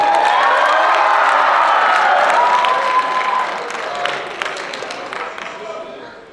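A crowd of high school juniors in an assembly cheers, whoops and applauds loudly, the noise slowly dying down over several seconds.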